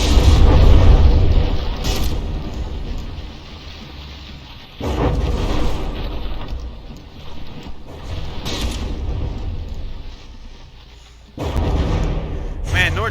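A battleship shell volley lands in From the Depths, heavy booming impacts arriving in a few separated rolling waves, loud and close, each decaying into a low rumble.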